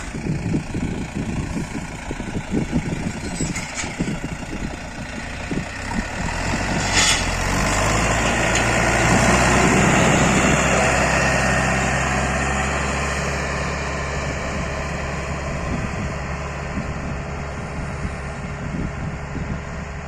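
DTZ 5404 tractor engine idling outdoors, a steady low diesel rumble that swells slightly in the middle before settling, loud and close, with a few rattles and knocks early on and no talking.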